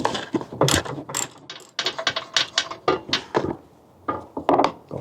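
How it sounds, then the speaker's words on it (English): A wrench ratchets loose the bolts on a Jeep JKU front bumper, giving close, loud bursts of rapid clicking that stop and start in short runs with brief pauses between them. "Four more bolts in here, and I gotta use the wrench to get it out"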